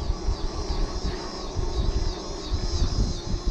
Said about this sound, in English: And that's some loud birds or whatever that is.